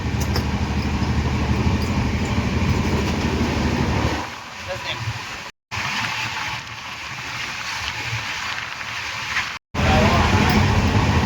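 The Howrah to New Jalpaiguri Shatabdi Express runs at about 130 km/h, a loud steady roar of wheels and wind, briefly dipping quieter midway before surging back with a couple of sharp cuts.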